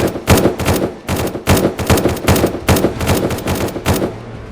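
Automated gun turrets firing in SurrounDead, a fast, steady volley of loud sharp shots in tight repeating clusters, close and continuous before tapering off at the end.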